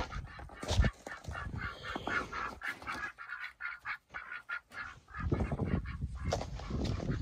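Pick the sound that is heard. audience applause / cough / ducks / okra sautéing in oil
ducks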